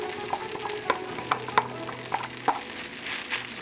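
Vegetables are stirred into five spice black rice frying in a pan, with a steady sizzle under a handful of sharp spatula scrapes and clacks.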